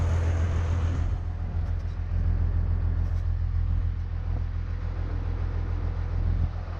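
Cummins diesel 12-valve engine in a 2nd Gen Dodge idling near 750 RPM, a steady deep rumble with a continuous low hum and no change in pace, close and loud throughout.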